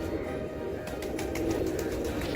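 Pet pigeons kept by a breeder in South Asia coo softly, making low, rounded calls close by against a murmur of background noise.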